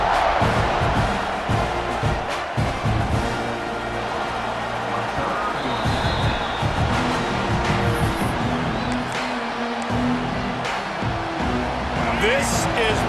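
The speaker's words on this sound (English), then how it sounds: "This crowd ready to make its presence known" A stadium crowd roars steadily in EA Sports College Football 26, a dense, continuous wash of cheering that stays loud throughout, with a broadcast commentator talking over it.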